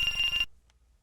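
A phone alarm used as an audiobook sound effect, a bright electronic ring lasting under half a second that cuts off abruptly into quiet.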